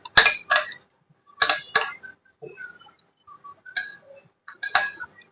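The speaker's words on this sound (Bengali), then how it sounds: "সুন্দর করে আমি চামচ দিয়ে একটু গুলে নিব।" A spoon mixes vinegar and cornflour in a bowl for homemade tomato sauce, making sharp, separate clinks against the dish in small clusters with quiet gaps between them.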